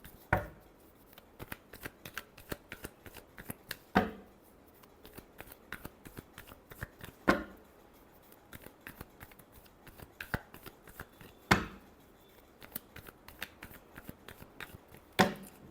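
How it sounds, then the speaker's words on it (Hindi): Tarot cards being shuffled by hand, a quiet, steady series of crisp riffling clicks and taps with sharper slaps every few seconds, close and without talk. "last shuffle"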